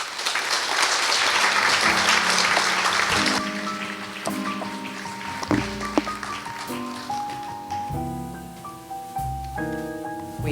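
An audience at a commerce event in Marbella gives a few seconds of dense, warm applause, which fades as piano-like music comes in and carries on alone.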